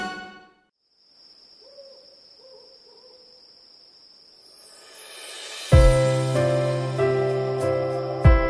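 A soft owl hoots a few times over a steady cricket chirp in a children's song, then bright music enters loudly and carries on to the end.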